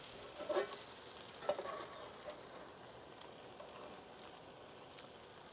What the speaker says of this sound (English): because now that we've gotten some crisp on them, we want them to start softening. And I just come in here and stir them around.